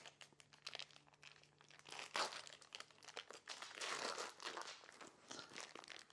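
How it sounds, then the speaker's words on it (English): The foil paper wrapper of an 8-ounce bar of cream cheese being peeled open, soft crinkling and tearing rustles with a louder crackle partway through, close and quiet. "So you start out with an 8-ounce bar of cream cheese. And you hope that it will unwrap."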